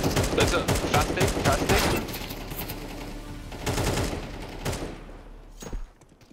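Loud automatic gunfire in Counter-Strike 2 on the Anubis map, a fast rattling burst of shots up front that thins into scattered shots and fades out toward the end.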